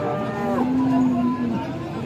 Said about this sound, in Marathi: आपण पाहू शकता गाई.